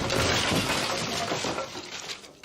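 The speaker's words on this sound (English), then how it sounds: "a glass jar cracked with a loud pop" A glass jar cracks and shatters, a loud broadband crash that rings and crumbles away over a couple of seconds before a final small clink, close and alone.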